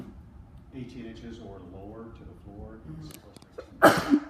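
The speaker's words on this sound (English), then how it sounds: "Bless you." A person talks steadily about building glass, then one loud, sharp sneeze bursts out close by near the end, rising over the speech.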